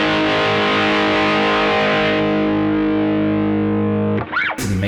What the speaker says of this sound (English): this is a really basic distortion pedal